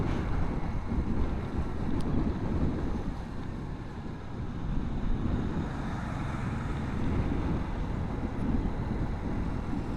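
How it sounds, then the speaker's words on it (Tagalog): Strong typhoon wind roars and buffets the microphone steadily throughout a ride on a Kymco Like 125 Italia scooter, a dense low rumble with gusty surges and no voices. "Pero yung hangin, grabe. Lalakas."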